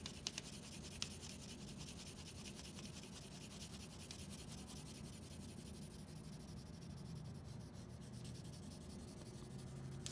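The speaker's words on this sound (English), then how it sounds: "And I can actually shade that side. I really only need to cover where my lines are going to be." A pencil shades the back of a sheet of paper to transfer a drawing for a lino block print, making a soft, steady scratching and rubbing that goes on without pause, faint and close.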